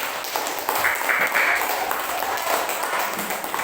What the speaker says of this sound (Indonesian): Beri tepuk tangan dulu kelompok dua.